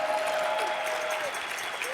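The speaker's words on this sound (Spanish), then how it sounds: "dale el mejor aplauso de este domingo" Church congregation applauding during a Sunday service, a steady wash of many hands clapping at moderate volume, with a sustained tone from the sound system running beneath the crowd noise.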